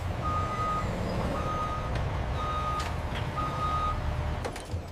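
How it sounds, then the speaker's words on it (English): Trucks manoeuvring for loading at an olive processing factory, steady reversing beeps repeating in even pulses over a continuous engine rumble, with occasional clatter. "Same color trucks arrive for loading."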